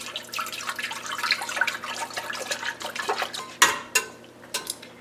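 A gallon of 2% milk pours into a pan, giving a steady, close splashing and trickling of liquid mixed with light clinks of metal, with a sharper clatter near the end and no talking.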